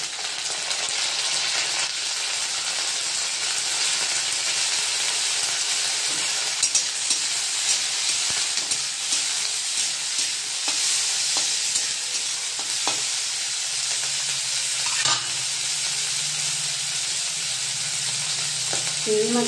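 Prawns frying with onions in a pan sizzle steadily and close, with occasional spatula scrapes and stirring clicks throughout.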